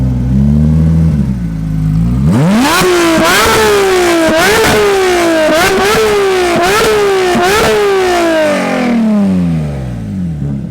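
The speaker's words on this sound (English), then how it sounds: "Oh, we can rev, baby. It sounds pretty cool." A modified Porsche 992 GT3 engine is blipped hard, a series of sharp rising revs that snap up and fall back in a rapid rhythm, very loud and close, then settles to idle, with no talk.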